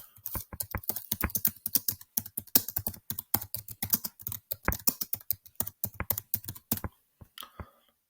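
Rapid keystrokes on a computer keyboard as assignment instructions are entered for an online lesson, a steady close clicking run for about seven seconds that stops near the end, with no voices.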